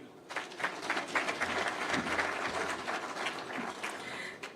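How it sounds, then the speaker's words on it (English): Audience applause at a securities exchange launch event in Nairobi, dense and steady clapping from a crowd that stays fairly even for several seconds, fairly close and alone without talk. "Let's do another round of applause"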